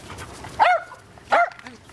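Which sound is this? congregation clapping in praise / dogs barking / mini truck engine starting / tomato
dogs barking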